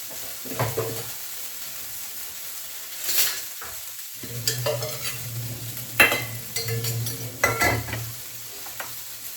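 Food sizzles and is stirred in a hot pan, with soft frying hiss under repeated sharp scrapes and clinks of a spoon against the pan, close and fairly quiet.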